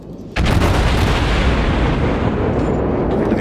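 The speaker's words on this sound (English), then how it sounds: "I'm firing shells at him" Warship main guns firing shells in World of Warships, aboard the USS St Louis: a sudden loud boom that opens into a sustained, heavy rumbling roar of continuous artillery fire.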